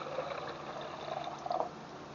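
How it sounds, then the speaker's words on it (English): Water poured into a homemade aquaponics setup of stacked containers, a soft continuous trickle and splash with a brief gurgling surge near the end, close by and fairly quiet. "Pour the water in."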